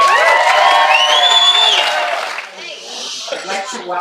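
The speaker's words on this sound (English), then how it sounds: "Everyone, give me a round of applause for Ben" Wedding guests at a speech reception cheer and applaud loudly, with whoops and raised voices at the start, then the clapping and crowd noise fade to a softer murmur.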